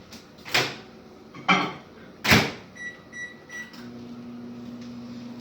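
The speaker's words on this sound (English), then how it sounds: "So I'm just going to put this in the microwave." A microwave oven heating marshmallows: several sharp clunks of the door and buttons, a few short beeps, then the steady hum of the oven starting to run.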